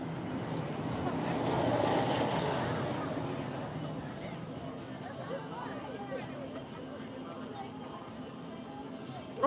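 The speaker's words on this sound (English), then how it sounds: "It's very windy here." Wind blows across the microphone at Epcot, Walt Disney World, as a broad whooshing rush that swells early, then settles into a steadier breezy hiss.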